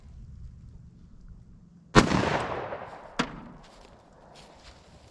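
A 10mm Glock 29 firing Speer Gold Dot rounds outdoors, one sharp loud report with a ringing tail followed about a second later by a weaker crack or echo, alone without speech.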